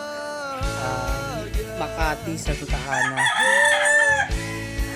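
Roosters crow loudly and repeatedly at a chicken pickup location, several long harmonic calls overlapping close by, with someone speaking briefly among them.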